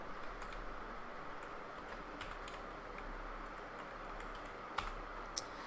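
Keys on a computer keyboard tapped in quick, light runs, faint and close with a couple of sharper clicks near the end and no voices.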